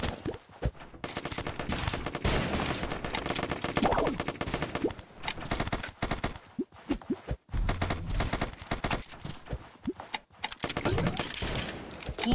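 Gunfire in the battle royale game Zombs Royale, dense rapid bursts of automatic fire and shots that run almost continuously and loudly, with brief gaps and a voice talking faintly underneath.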